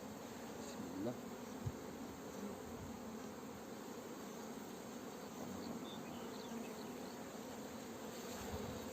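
Honey bees swarm around an opened beehive with honey-filled frames, making a dense, steady buzz close by that continues without a break.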